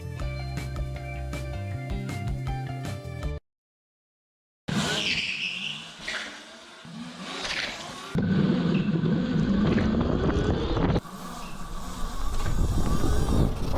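Mini bike geared 14/40 on lower-profile tires making a top speed run, engine loud and close with revving bursts, gear-change gaps and one brief silent break.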